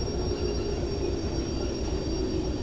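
Loaded freight cars roll and brake in the Derail Valley train simulator, a steady low rumble of wheels on rails with a faint high squeal running through, close and continuous with no talking.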